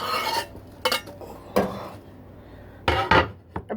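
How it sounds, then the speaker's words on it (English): A knife cuts potatoes on a cutting board in a home kitchen, giving a few separate sharp chops and scrapes with short quiet gaps between them, close and moderately loud. "Our potatoes are now cut up."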